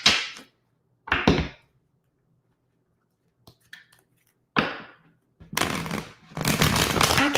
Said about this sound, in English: I need another shuffle, Laura.